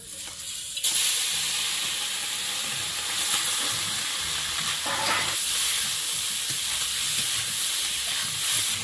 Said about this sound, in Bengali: তেলের মধ্যে এই মাছটা দিয়ে দেবো।